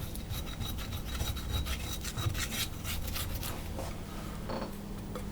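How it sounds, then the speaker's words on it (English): Scraper rasping against the bottom of a bowl to free the last Sicilian sesame cookie dough, a close, repeated rubbing scrape in short strokes. "I'm going to scrape the bottom of the bowl"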